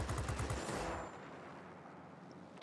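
Aircraft guns in the World of Warplanes video game, fired from an S-199 fighter at a ground attacker: a quick, loud burst of rapid shots for about a second, then fading into engine drone.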